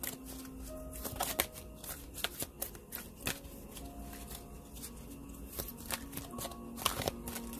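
Close-up card shuffling: a continuous papery riffle with repeated sharp snaps and flutters, steady and busy throughout, no voices.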